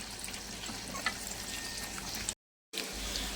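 Tomato frying with softened onions in an earthen clay pan for goat curry, a steady moderate sizzle that cuts out briefly and then returns.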